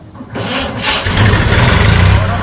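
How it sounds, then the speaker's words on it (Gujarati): A farm tractor's engine cranks and catches, then settles into a loud, steady, throbbing diesel idle, close by. "આલું ટ્રેક્ટર શરૂ કરીને જવાનું।"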